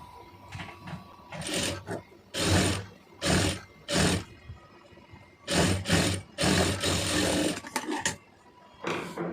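A home sewing machine stitches a saree border onto a puff sleeve in several short, loud whirring runs separated by brief pauses, with a steady running burst near the end.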